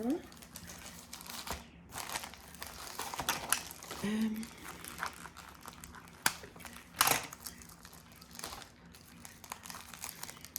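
A fabric-wrapped AliExpress parcel is pulled open, with crinkling and rustling of cloth and wrapping in irregular bursts and a few sharper tearing scrapes, close by.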